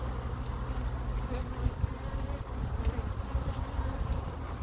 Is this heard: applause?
no